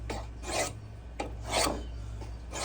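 Coarse-grit abrasive rasping along a knife blade while a Jonah knife is being made, four long gritty strokes in a steady rhythm, close and fairly quiet over a low hum.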